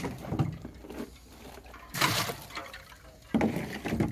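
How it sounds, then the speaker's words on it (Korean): Water is poured into a pot for boiling taro over a wood-fired clay hearth, arriving in several close splashing bursts of gushing and trickling with short pauses between them. "또 다른 거를 삶으려고 물을 붓고 있습니다."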